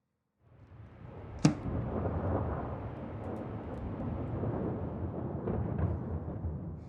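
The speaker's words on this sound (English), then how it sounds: "How close it is. I think we'll have some thunder after all." Thunder rumbling close by in a dramatic film scene, a steady low roll running the full length with a sharp crack near the start and a few fainter crackles later, no voices.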